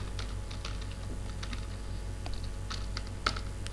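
C++ code is typed on a computer keyboard, a steady patter of light keystrokes over a low constant hum, with one slightly sharper key press near the end.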